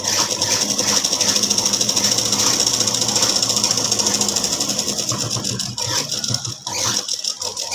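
Sewing machine stitching folded cloth for a chudidhar, running as a fast steady whirring rattle of needle strokes close by, loud and continuous with a brief pause near the end.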